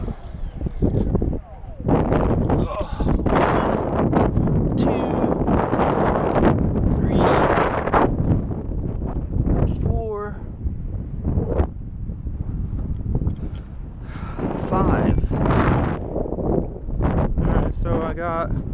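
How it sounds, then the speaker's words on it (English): Strong gusts of wind on a windy day buffet the microphone in loud, roaring bursts with brief lulls, while a person talks intermittently. "Wow, it was windy."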